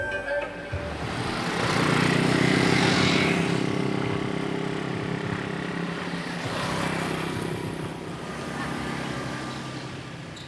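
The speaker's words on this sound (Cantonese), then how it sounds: "發現佢哋有3部好嘈嘅電單車" Several noisy motorcycles on a rural road in Java's countryside, their engines droning steadily, swelling loudly as they pass near and then easing off, with a second surge a few seconds later.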